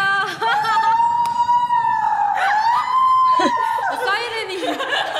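A wailing ambulance siren rises and falls steadily in the background while people talk and laugh over it.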